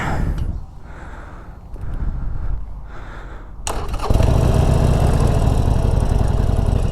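A Harley-Davidson Forty Eight motorcycle, its engine turning over and catching, then settling into a loud, close, steady rumble that fills the rest of the time.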